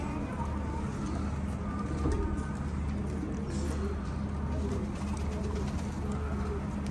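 Pigeons coo softly over a steady outdoor rumble at a rooftop loft, with faint wing flutters and bird calls scattered through; no speech.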